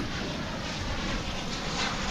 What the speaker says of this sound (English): Korean Air cargo plane liftoff for Anchorage.